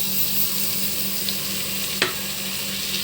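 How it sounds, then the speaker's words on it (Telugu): Masala spices frying with tomatoes for kadala curry, a dense steady sizzle close up with a couple of brief spoon knocks and scrapes. "ఆ మసాలాలంతా ఈ టమోటాలో ఈ మసాలాల్లో బాగా వేగాలండి"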